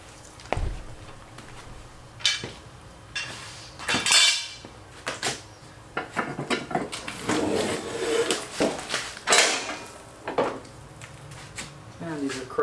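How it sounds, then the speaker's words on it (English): Metal lawn tractor mower blades on an upturned Craftsman YT4000 deck clank, scrape and clink in irregular bursts as they are handled, removed and swapped, close by with scattered knocks and rattles. "We'll swap the blades out for the new ones."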